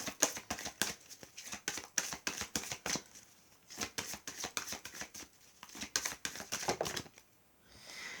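Oracle cards are shuffled and drawn from a deck during a Valentine's Day love reading, giving bursts of rapid riffling flicks and crisp card snaps in quick rhythmic runs with short pauses, close but quiet, with no voice.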